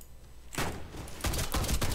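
Quiet game ambience gives way to loud, repeated blasts from an SRM1216 shotgun in the shooter Warface, fired in quick succession with short gaps between bursts.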